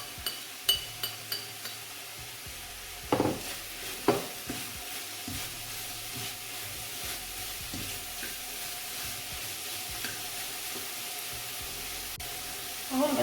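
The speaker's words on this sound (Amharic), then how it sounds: "ያዘጋጀሁትን ሽንኩርት ጨምራለሁ።" Onion is added to a pan of chicken cooking down with carrots and macaroni, and a spoon stirs it with a few sharp scrapes and knocks over a soft sizzle, fairly quiet and without talk.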